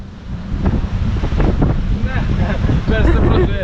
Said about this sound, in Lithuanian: Per stiprus vėjas.